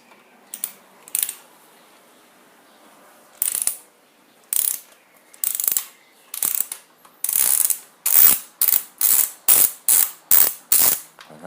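Hand ratchet wrench loosening the left axle pinch screw on a motorcycle front wheel: sharp clicking pawl strokes, sparse at first then a fast regular series of loud close bursts, with no talk.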